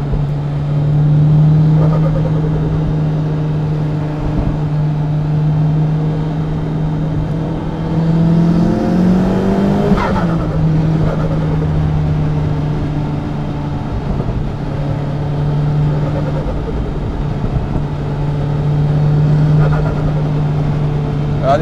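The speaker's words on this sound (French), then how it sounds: "J'en mets une petite dernière accélération pour la route." A twin-engine Audi TT Bimoto, a 1002-horsepower build, pulls hard under full acceleration with a loud, sustained engine drone that rises in pitch around the middle, close and continuous throughout with no speech.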